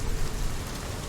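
Steady rain falls in the video game Hellblade: Senua's Sacrifice, a dense, even hiss of drops with no break, close and alone.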